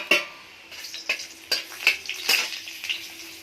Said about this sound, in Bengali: আর হচ্ছে কালো জিরে ফোড়ন দেব।